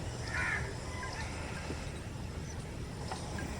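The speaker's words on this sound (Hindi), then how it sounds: "ये उसके माँ या बाप कौवा बैठा हुआ है इसी छोटे से पेड़ पर।" A crow caws from its perch in a small tree amid a morning jungle-edge garden, a single harsh call near the start over steady background hiss and faint bird chatter.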